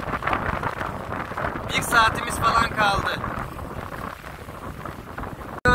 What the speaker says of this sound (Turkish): Rüzgar kuvvetli, serpinti yapıyor.